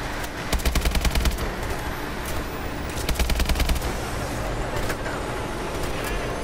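Rapid automatic gunfire from the video game Call of Duty: Advanced Warfare comes in two loud bursts of quick repeated shots over a constant background roar, with a few scattered single shots after them.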